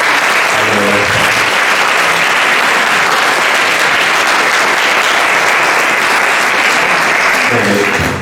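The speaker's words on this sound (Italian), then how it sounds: "Quindi io direi che un grossissimo applauso per dedicarlo" Loud, sustained applause from a large gathering at an event of the Istituto Cavanis, thick continuous clapping with faint voices mixed in near the start and end.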